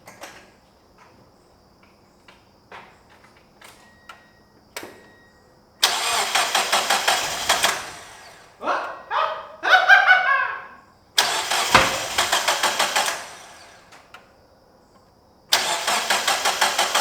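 A Mazda Miata engine with a freshly replaced timing belt cranks over in three loud, rhythmic bursts of starter churning, the longest about two and a half seconds, with a few sputtering pops in between and quiet pauses around them.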